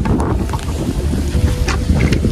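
Wind buffets the microphone in a steady low rumble, with faint gusty rushes and no talking.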